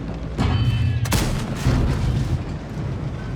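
Tank cannons fire in a tank battle video game, with a couple of heavy booming shots and rumbling echoes, one sharp close blast standing out amid continuous battle noise.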